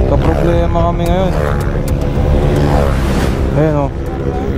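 A broken-down scooter motorcycle engine on a group ride, running rough and loud with a constant low drone close by, the steady noise filling the whole stretch.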